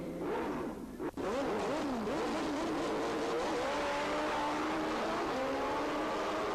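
Suzuki and Kawasaki pro comp drag bikes race down the strip at a 1986 drag racing event, engines screaming loudly and rising in pitch as they accelerate away, with a brief dip near the start.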